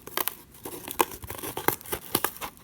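Shapes are cut into paper for an organic relief, heard as a steady run of close, crisp tearing and crinkling snips that come in irregular bursts with no talk.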